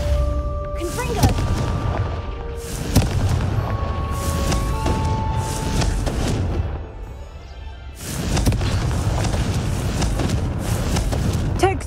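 Confringo fire spell blasts hitting pumpkins in Hogwarts Legacy: a string of loud booming explosions in irregular bursts, each with a rumbling tail, against an ambient game background.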